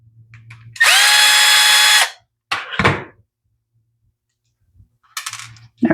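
Cordless power drill backs a screw out of an Echo SRM210 string trimmer in one loud whirring burst of about a second, followed by clicks and handling noises of the tool and parts.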